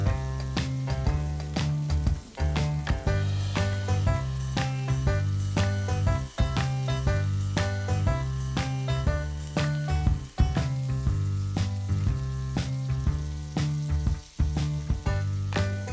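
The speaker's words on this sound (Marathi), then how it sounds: "अशा प्रकारे मी बाकीच्याही शेजवान चकल्या तळून घेते." Schezwan chakli deep-frying in hot oil on a low gas flame, a steady loud sizzle and crackle with small popping bursts throughout, no talking.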